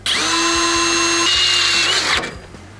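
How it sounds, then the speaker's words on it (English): A power drill whines loudly at a steady pitch for about two seconds, shifting tone midway as it bites into a steel bracket on a Chevrolet Colorado or GMC Canyon, then spins down. "we'll center punch that and drill that out to 5/16"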